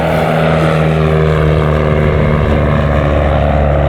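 A propeller airplane drones steadily and loudly throughout, its engine hum constant and unbroken.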